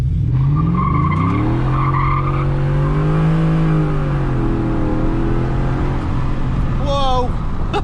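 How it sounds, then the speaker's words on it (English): Ford F150 pickup spinning its tires on launch, a loud continuous engine roar with rising and falling pitch over steady tire squeal and skidding, close by, ending in a quick pitch sweep as it slows. "the tire spin is bad"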